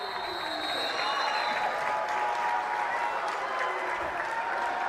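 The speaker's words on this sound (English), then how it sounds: "As the Highland crowd goes wild." A home crowd at a high school boys basketball game cheers and applauds loudly for the whole stretch, a dense, steady roar of voices and clapping.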